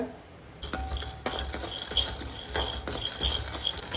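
Peanuts roast in a kadai while being stirred, giving a busy rattle of nuts and clinks of the spoon against the metal pan, close and continuous after a brief quiet start.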